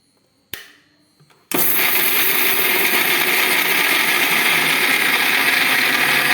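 An electric mixer grinder pulverizing roasted, cooled ingredients: a brief clatter as the jar is handled, then the motor kicks in with a loud, steady, close whirring grind that runs unbroken to the end.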